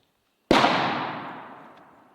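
A single sharp rifle shot from a bullpup rifle fired remotely by pulling a string, cracking suddenly after silence and trailing off in a long fading echo outdoors.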